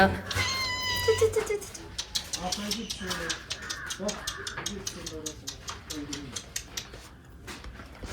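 A house cat meows repeatedly and fairly close, the calls coming as rising and falling cries in quick succession, along with crow caws and a person speaking in the background.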